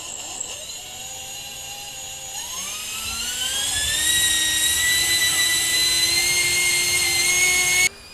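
Electric ducted fan on a heavy 4WD RC car running near full throttle on a low 4S battery, a loud whine rising in pitch and holding steady for several seconds before cutting off abruptly.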